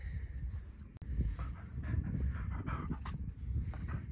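Close, rapid breathy panting from a dog, steady and rhythmic for several seconds, with a brief thump early on.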